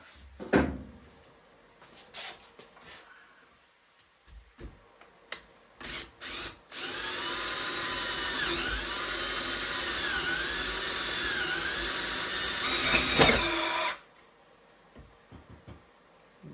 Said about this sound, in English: I can take that down, finish the drill now.